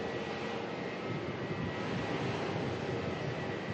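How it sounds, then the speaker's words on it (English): A Jetstar Airbus A320neo engine spools up at startup, a steady broadband whine and rush, fairly even and unbroken, with no voices. "That was Jetstar over here starting up. That was a good spool up. It's a Neo spool up."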